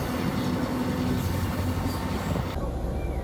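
An old Yugoslav train rumbles steadily at a small station, a continuous close mechanical roar that softens near the end.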